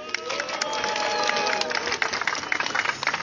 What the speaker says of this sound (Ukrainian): Давайте ще раз гучніші оплески.